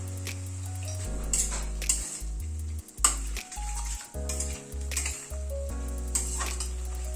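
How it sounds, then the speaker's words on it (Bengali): Poppy seed paste is stirred and fried in a pan for Bengali pabda fish, with a soft sizzle under scraping spoon strokes and a loud, steady low hum from background music. "পোস্তটা একটু নাড়াচাড়া করে নেব।"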